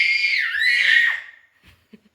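A child's shrill, squealing call imitating a monkey, loud and close for just over a second, then fading into a few faint small sounds.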